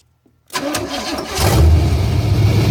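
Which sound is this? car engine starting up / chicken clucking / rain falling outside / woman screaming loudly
car engine starting up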